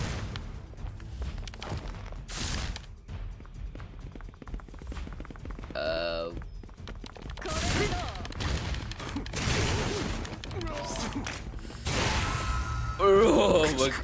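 Gunshots and impact bursts from the anime action game Tokyo Ghoul:re Call to Exist, sharp irregular blasts and crashes clustered in volleys amid game effects, with a voice talking over parts of it.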